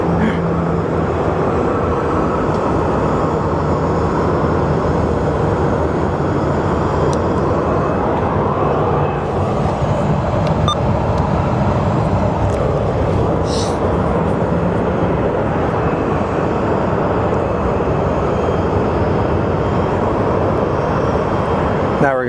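A departing airliner at Phoenix Sky Harbor airport produces a loud, sustained broadband engine roar that holds steady for the whole stretch, with a few faint clicks and ambient noise around it.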